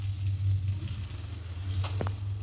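Onions frying in oil in a pan while making a carrot palya, a steady soft sizzle running throughout with a couple of brief stirring clicks near the end.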